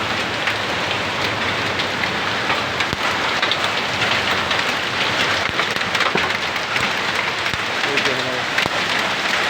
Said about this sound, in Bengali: শিল পড়তেছে, যেমন শিল তেমনই বৃষ্টি